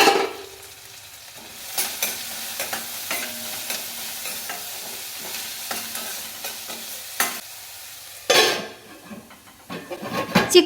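Onions for a chicken curry frying and being stirred in a pan, with a steady soft sizzle and intermittent scraping stir strokes, a louder burst of activity near the end.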